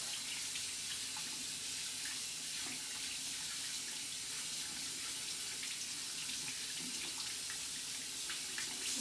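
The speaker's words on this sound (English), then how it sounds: "I'm going to rinse my hands." Water runs steadily from a faucet into a sink while hands are rinsed in a microbiology lab hand-washing routine, a continuous close hiss of splashing with small irregular spatters, no voices.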